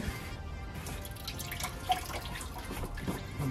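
Coolant drips and trickles steadily from the reservoir of a 2014 Audi A8 D4 3.0 TDI, with a few louder splashes, close by and with no voices.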